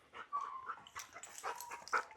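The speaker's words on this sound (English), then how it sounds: "There's a little bit of whining going on." A dog in the next room whines and whimpers in thin, high, wavering cries, faint and somewhat distant, repeating in short bursts.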